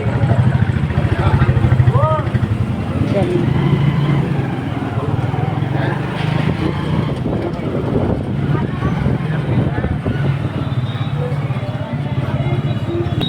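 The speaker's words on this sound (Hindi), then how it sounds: "ये देखिए हम बाइक पे" A motorbike riding along a road toward a hospital, its engine a steady close drone throughout with wind rush, while voices talk intermittently over it.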